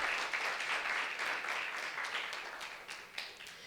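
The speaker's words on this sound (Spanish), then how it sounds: "Démosle un aplauso al Señor" A church congregation applauds the Lord, a dense, even wash of clapping at moderate volume that holds steady and then slowly fades toward the end.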